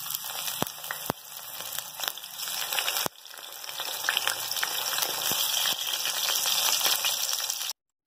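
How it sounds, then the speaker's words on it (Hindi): Eggplant fries in oil in a frying pan with a soft, crackly sizzle broken by scattered pops and a few sharp clicks, fairly quiet and ending suddenly. "अब हम अपने बैंगन फ्राई करेंगे फ्राई पैन के अंदर मैंने तेल डाल दिया है"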